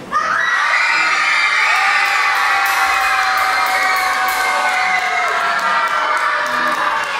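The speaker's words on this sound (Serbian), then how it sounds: "vrištite sad za njega, vrištite" A concert hall audience of young people screams and cheers loudly for a performer, a sustained, high-pitched roar with whoops that holds steady for the whole stretch.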